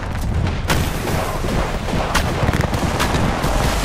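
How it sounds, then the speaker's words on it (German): In the Apex Legends battle royale game, a grenade goes off amid a dense, loud wash of gunfire and booming blasts, a continuous roar of shots and explosions with no speech. "Granate ist drin."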